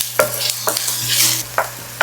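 Meatballs frying in olive oil with softened onions, a steady sizzle with sharp bursts of crackle and stirring as they settle into the hot pan, close and clear with no talking.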